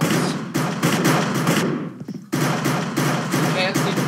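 Rapid bursts of gunfire in the video game Cops and Crims, dense loud automatic volleys that pause briefly in the middle before resuming, with some talk underneath.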